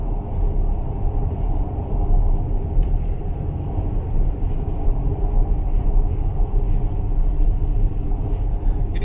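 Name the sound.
vibration rumble inside Tesla Model X while driving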